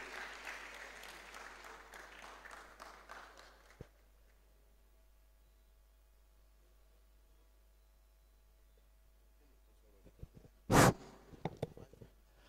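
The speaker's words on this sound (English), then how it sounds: "let's give a round of applause to Professor Elijah Oyeyemi as he comes forward." At a university zoology department valedictory programme, an audience gives a round of applause as a professor comes forward. The clapping lasts about four seconds and then stops abruptly, followed by near silence with a few scattered knocks and a loud thump near the end.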